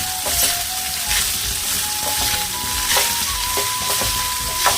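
Goat blood fry sautéing with onions and spices in a pan on a South Indian stove, giving a steady crackling sizzle with intermittent stirring scrapes, close and alone.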